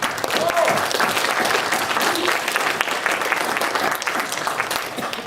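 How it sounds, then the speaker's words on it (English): An audience applauds throughout a student political debate at a university, dense loud clapping filling the room for several seconds before tapering slightly. "please refrain from applauding in the middle of the people giving their positions"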